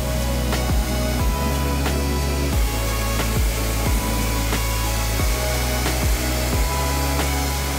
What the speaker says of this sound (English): that was followed by a good pressure rinse down